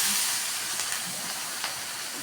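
Steady, bright hissing sizzle of celery leaves frying in hot oil with chili, continuous and close, with faint crackles rising now and then.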